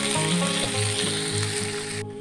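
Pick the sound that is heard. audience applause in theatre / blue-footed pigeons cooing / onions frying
onions frying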